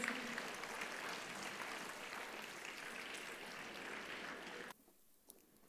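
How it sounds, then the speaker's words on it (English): Sustained audience applause fills a hall at a school annual day award ceremony, steady and dense for several seconds before cutting off abruptly, leaving near silence with one faint clap. "A big round of applause,"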